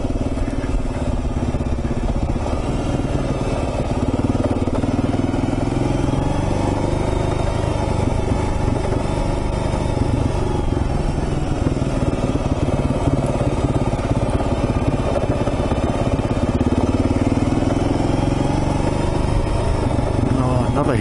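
Motorcycle rolling slowly down a steep hairpin descent on Main Camp Creek Road, its engine a steady mid-pitched drone throughout with low rumble, close and continuous, with the rider talking over it.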